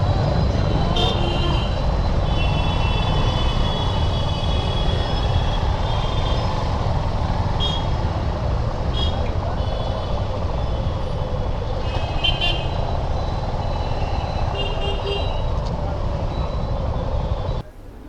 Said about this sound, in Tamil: குவாஹாத்தியில் செம டிராஃபிக்னா மோசமான டிராஃபிக்ங்க அங்கே